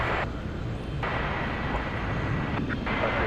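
An American Airlines Boeing 737 MAX 8 taxiing at DFW at night produces a steady, moderate engine rumble and whine that carries on without a break.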